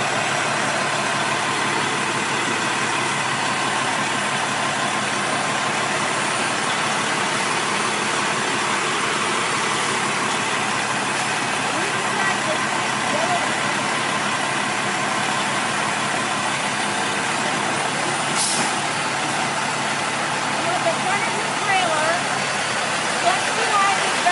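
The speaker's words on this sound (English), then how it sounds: "He's going to do a safety start. And he's going to pull the tractor ahead." A semi truck tractor engine runs steadily throughout, a constant mid-to-low idling drone with a faint brief click partway through, close and unbroken.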